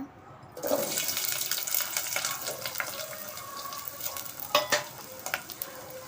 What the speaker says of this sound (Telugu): ఆయిల్ వేసుకున్నాను తర్వాత మనం ఉల్లిపాయలు పచ్చిమిరపకాయలు వేస్తున్నాను